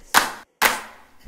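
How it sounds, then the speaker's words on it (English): Hands clap in time with a kids' music show song, two sharp, close claps roughly half a second apart, with a third starting at the end. "clap your hands"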